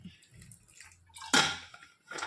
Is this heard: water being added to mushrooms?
yes